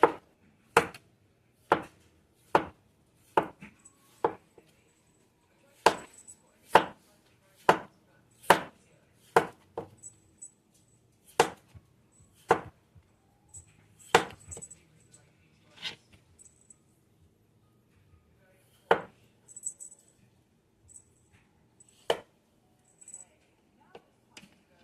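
Par-cooked potatoes sliced with a knife on a cutting board, sharp distinct chops in a quick steady rhythm that thin out into sparser, quieter cuts later, close and clear against a quiet background.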